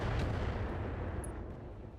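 Mech weapons fire in the video game Battletech, a dense, continuous roar of gunfire and artillery-like rumble holding steady for about two seconds with no talking.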